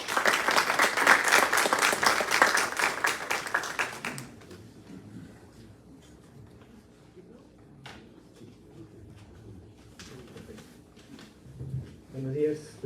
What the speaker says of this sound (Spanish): recibiéndolo con fuertes aplausos